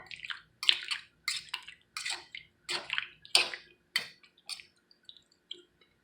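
Water poured into a pot of clam chowder in a kitchen: a series of short splashing gushes and sloshes, close by, coming in uneven bursts and tapering to a few faint drips.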